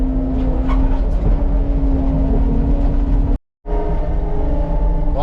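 A skid loader engine runs at a steady, loud idle-to-mid rev on an excavation and driveway repair job. It drones continuously, briefly cutting out for a moment near the end before resuming.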